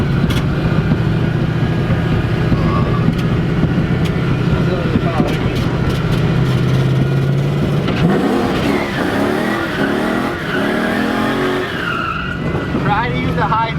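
A V8-swapped BMW E36 drifts on a cold street. The engine revs loud and close, and the tyres squeal and skid continuously throughout. A voice is faintly heard under the roar.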